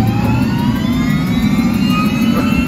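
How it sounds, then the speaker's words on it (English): A small turbine engine whines steadily and loudly, its rising tones climbing as it spools up, with a heavy low rumble underneath and no voices. "it sounds just like an airplane starting up"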